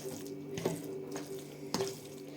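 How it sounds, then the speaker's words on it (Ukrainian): Water poured from a tap into a liver sausage mixture, a steady running splash with a couple of sharper drips, close and even. "і додамо води"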